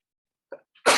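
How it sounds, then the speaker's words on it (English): A single sneeze during a podcast recording, a short intake breath followed by a sharp, close burst, in an otherwise quiet room. "First ever podcast sneeze."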